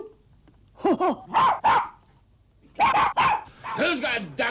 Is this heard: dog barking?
yes